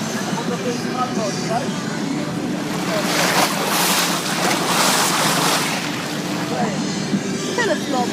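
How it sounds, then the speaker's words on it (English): A small boat moves across open water, a steady rush of waves and hull wash under gusting wind noise, rising and swelling through the middle, with faint voices in the background. "Kind of small boat."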